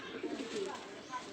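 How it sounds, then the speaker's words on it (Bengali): A young female racer pigeon coos softly nearby in a few low, throaty warbles, the calls short and close, with a bit of background murmur around them. "এটা একটা মাদি কবুতর।"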